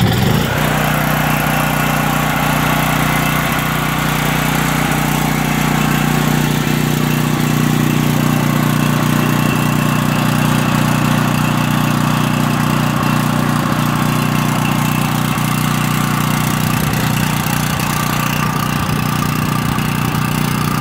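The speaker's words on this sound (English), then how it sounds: "I didn't want to talk over the engine" A Coleman Pro Gen 5000 portable generator engine running on propane runs steadily and loudly nearby, a constant droning hum that holds throughout with no talking.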